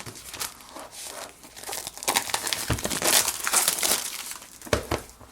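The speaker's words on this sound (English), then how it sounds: "looks like we have some plastic to take off here" Plastic wrap on an Oppo Find 7 phone box being cut along the side and pulled away, a close run of crinkling and tearing rustles for several seconds with brief louder crunches near the end.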